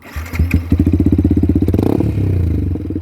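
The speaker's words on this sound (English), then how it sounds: "So we got the bike started. It sounds really nice. It's really meaty." A 2019 Yamaha YZF-R125 motorcycle engine cranks and fires up, settling into a loud, rapid, throbbing idle with a brief rev, close by.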